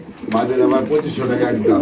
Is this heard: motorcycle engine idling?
no